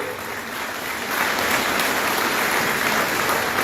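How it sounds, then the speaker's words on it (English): Audience applause at a livestreamed event, a loud, close, dense clapping wash that swells after the first second and stays steady without speech. "Please give a round of applause."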